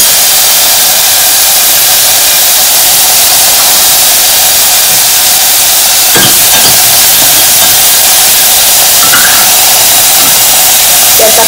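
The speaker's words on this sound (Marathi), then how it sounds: "जास्त तेल नाही याच्यामध्ये, नुसती जस्ट फ्राय करून घ्यायचं एकदम" Vegetables fry in a pan with very little oil, giving a steady loud broadband hiss and sizzle throughout, with a few brief scrapes or clinks partway through.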